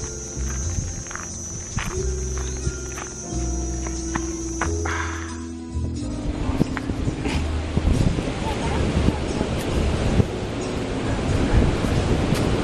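Waves and wind at a seaside resting spot in Sihanoukville, Cambodia, where hammocks are set up for visitors. A steady broad wash of surf and breeze rises in the second half, and someone talks throughout.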